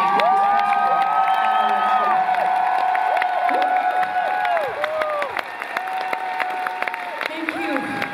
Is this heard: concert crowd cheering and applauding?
yes